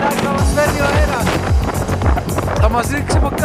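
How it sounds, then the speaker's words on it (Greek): Strong headwind buffeting a cyclist riding between Trikala and Petrilo, a steady loud rushing roar of wind noise across the microphone throughout, with a voice talking over it. "εδώ έχει τρελό αέρα"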